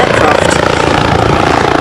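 A helicopter flying at an air festival, a loud steady rotor roar with a rapid chopping pulse, close and continuous throughout.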